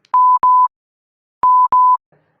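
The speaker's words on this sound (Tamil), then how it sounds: "இதுக்கு பீப் சவுண்டு போட்டுருக்காங்க." A censorship bleep from a Tamil Bigg Boss 10 broadcast, heard as two pairs of steady, loud tones, each pair of short beeps following the other after a brief pause, with no audible speech beneath.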